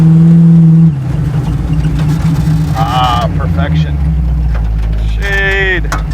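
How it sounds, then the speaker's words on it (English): Steady road rumble of a dirt-modified car cruising a desert highway at 60 to 70 miles per hour, constant engine and tire drone with brief squeaky rattles over it. "We're rolling down the highway, 60 to 70 miles an hour."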